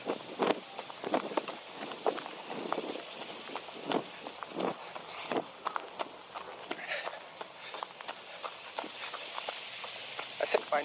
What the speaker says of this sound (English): And right into the wind.